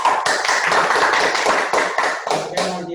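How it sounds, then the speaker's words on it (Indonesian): Applause for a school quiz team at an online quiz competition, a short burst of crisp clapping from several people, close and loud, fading near the end as a voice briefly speaks. "Tepuk tangan."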